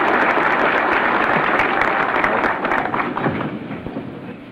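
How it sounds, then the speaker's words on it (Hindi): Sustained applause from a large audience at the Washington Press Club during a 1961 visit by President Ayub Khan, dense and steady, then slowly thinning toward the end. "तालियों की गूंज जब कम होती है"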